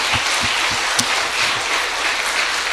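A church congregation bursts into sustained applause, a dense crowd of clapping hands that stays loud and even throughout, with a few sharper claps standing out near the start.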